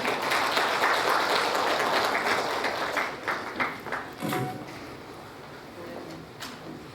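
Applause at a Korean community advisory council inauguration ceremony in Atlanta welcoming a guest speaker, a full burst of clapping that tapers and thins out into scattered claps toward the end.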